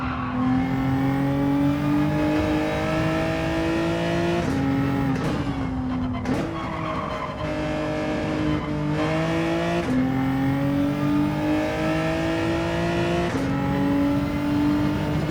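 Race car engine in Gran Turismo 7 at the Nürburgring, loud and continuous, holding high revs with brief lifts and dips where the throttle eases off before climbing again, alone with no talk.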